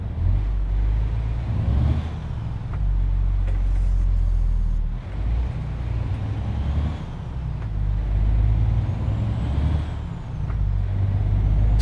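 A MAN truck in Euro Truck Simulator 2 pulls away with a loud, continuous diesel rumble that rises and dips. Short air brake hisses and clicks cut through the engine now and then.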